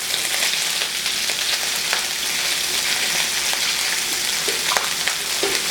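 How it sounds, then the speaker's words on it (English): Spices sautéing in a pan for a spiced shrimp stew, a steady dense sizzle and crackle holding loud and continuous throughout, with a few faint utensil taps. "So we're just going to saute these up until they become brown."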